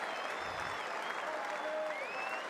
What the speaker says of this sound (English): He's getting a standing ovation.